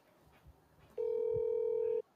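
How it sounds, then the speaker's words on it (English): A steady electronic telephone tone sounds for about a second as a recorded phone call is played back, loud and clear after a quiet stretch, with no voices over it. "I'm gonna start it with the ringing to make sure we can hear it."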